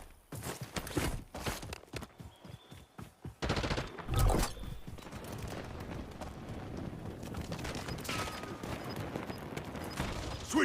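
Gunfire in Call of Duty Warzone: rapid bursts of shots crack through the first few seconds, then give way to a dense, sustained wash of battle noise.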